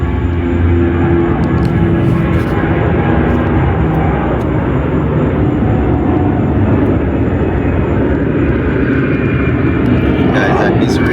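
Airplane taking off at an airport, a loud, steady jet engine roar that holds for the whole stretch with broadband rumble, heard from nearby with no talk over it.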